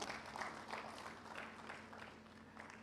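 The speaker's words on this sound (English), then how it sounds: "Let's give a round of applause to our presenters." Faint, steady applause from a conference audience at a Uganda AIDS Commission event, a dense patter of clapping with a low electrical hum underneath and no voices.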